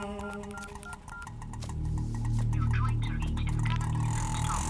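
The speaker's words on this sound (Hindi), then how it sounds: "90 को फोन लगा।" A telephone number is dialed, a quick run of keypad beeps at the start over a low electrical hum, fading into a louder steady droning background.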